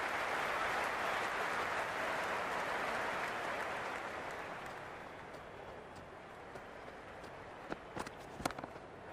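Broad crowd roar in the cricket video game Cricket 26 after a six, loud at first, then fading into a quieter murmur with a few scattered claps near the end.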